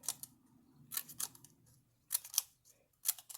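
Scissors snip through paper for a shabby chic junk journal, a few short crisp cuts in separate bursts with quiet pauses between, close and alone.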